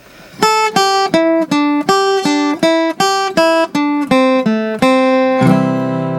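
A melodic acoustic guitar line of about a dozen clearly picked single notes at a steady pace, ending on a ringing strummed chord, with no voices.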